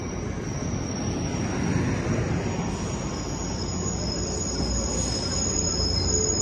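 Amtrak San Joaquin passenger train #718 rolls past OKJ station with a steady, loud, close rumble of wheels and cars that lasts throughout, a faint squeal riding on top and insects chirping behind.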